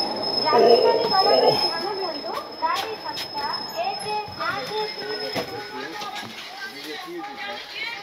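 The 03102 Puri–Sealdah special passenger train stands at a station platform, its carriages rumbling and wheels faintly squealing amid station bustle, with voices carrying nearby.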